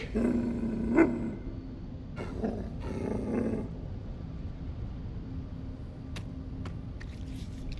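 A dog in the sci-fi video game The First Descendant gives a low, rumbling growl that flares once near the start, then continues as a steady, close snarl beneath game ambience and effects, with no talking.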